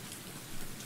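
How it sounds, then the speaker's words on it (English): Rain pours steadily in the video game Sew in Love, a soft, even wash of noise with no voices. "I was going to wait for the rain to slow down a bit."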